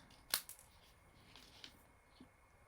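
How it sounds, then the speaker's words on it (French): Scissors snip paper corners at an angle for a scrapbook mini photo album: one sharp close snip followed by a few softer, sparse cuts and paper rustles. "Vous allez prendre une paire de ciseaux et couper en biseauté"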